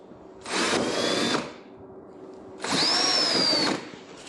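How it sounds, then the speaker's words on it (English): A power drill bores out two small holes in a workpiece, giving two separate high whining bursts of about a second each at close range, with a brief pause between them and a low motor hum underneath. "Go back and drill out those 2 smaller"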